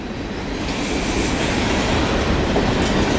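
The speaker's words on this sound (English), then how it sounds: "I don't often get to walk with a freight train." A CN freight train with hopper and tanker cars rolls past close by in Montreal's Ahuntsic borough, a loud, continuous rumble and rattle of wheels on rail with no let-up.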